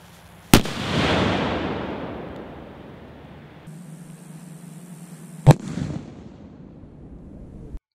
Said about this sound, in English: Next is the infamous cherry bomb. This is more powerful than the M80, as it has significantly more flash powder.